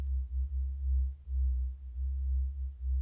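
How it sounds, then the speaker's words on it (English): Low, steady meditation tones from a guided moonlight cleanse session hum alone beneath silence, swelling and dipping gently in a slow, pulsing rhythm. "You can hear the calming tones"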